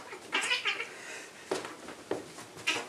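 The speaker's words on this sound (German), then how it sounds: "Hinter mir fetzen sich gerade die Katzen." Cats fighting nearby, with several loud, harsh caterwauling yowls and screeches in bursts separated by brief pauses, heard alone without talk.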